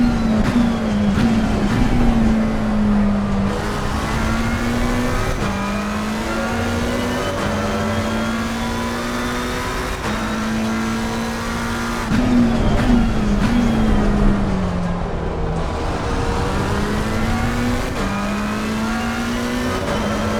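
Race car engine in the sim racing game Assetto Corsa, revving loud and steady throughout, pitch climbing through gears and dropping on shifts, with no talk over it.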